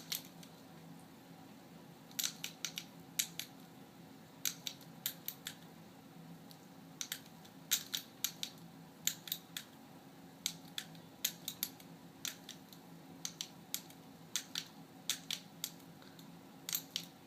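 Buttons on a five-button chorded keyboard pressed in quick clusters of sharp clicks, with short pauses between bursts, soft and close against a faint steady background hum.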